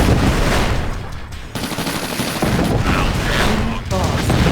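Heavy battlefield gunfire from Command & Conquer: Tiberian Sun, loud overlapping bursts of machine-gun and rifle fire with booming impacts, continuous and close, with brief gaps and a faint electronic tone.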